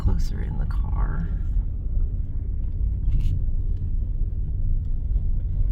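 Low, steady engine and road rumble from inside a car driving slowly on a rainy day, continuous throughout with a brief voice near the start.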